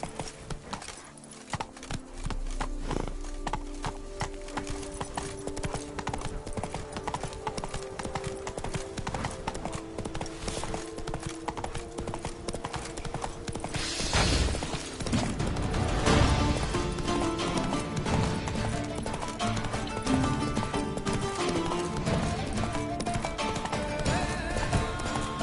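Horse hooves clip-clopping at a gallop in the Witcher 3 video game, a steady rapid beat carried under dense game music and ambience throughout.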